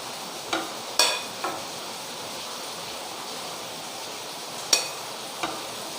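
Carrots and small bread pieces are stirred in a pan for bread upma over a faint steady sizzle, with a handful of sharp spoon scrapes and taps against the pan standing out.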